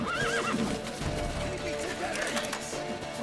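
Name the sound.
horse neighing in the video game The Witcher 3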